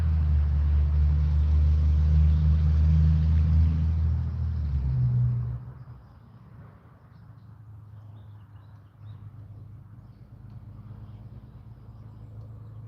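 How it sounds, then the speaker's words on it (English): A truck drives down a road near a cemetery, its loud low engine rumble close for about five seconds before fading away into quieter ambient noise. "Somebody's showing out now, coming down that road in that truck."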